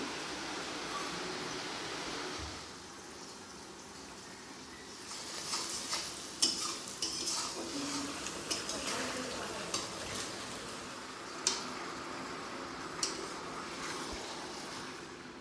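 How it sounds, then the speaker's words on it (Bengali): Sliced onions fry into crisp beresta for biryani, a soft, continuous sizzling hiss with occasional light clicks and stirring taps, fairly quiet and even throughout. "বিরিয়ানির বেরেস্তা ভাজা হচ্ছে"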